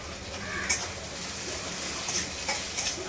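A large amount of chopped onion frying in hot oil in a pan, a soft steady sizzle with occasional stirring clicks of a utensil against the pan.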